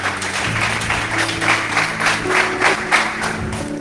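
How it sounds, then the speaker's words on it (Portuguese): A church congregation applauds for Jesus, a dense, steady wash of clapping lasting several seconds, loud and close, with no talking over it. "Vamos dar um aplauso mais forte para Jesus."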